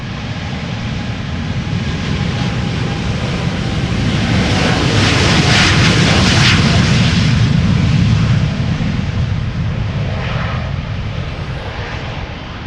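A KLM airliner departs for Panama City, a loud, steady jet engine roar that swells through the middle and slowly fades, heard close up at a busy airport with wind buffeting the microphone.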